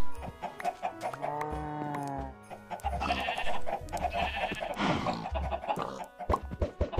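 Chickens clucking on a chicken farm in the video game Minecraft, repeated close clucks and bleating-like calls in an irregular run, with no talk.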